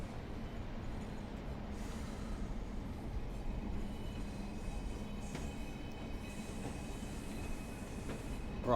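A train rumbles along the West Cornwall line in the video game Train Sim World 4, a steady, continuous low roar with faint high squeals, no voices over it.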